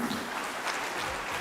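A conference audience breaks into steady applause for a speaker at a closing session, a dense, even wash of many hands clapping with no voices on top.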